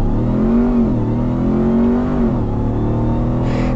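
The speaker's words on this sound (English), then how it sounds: "hit the launch control button, hold my foot on the brake, pin the throttle," Supercharged V8 RAM TRX pickup launching hard from a standstill under launch control, a loud, close engine roar climbing steadily in pitch through the gears with no talk.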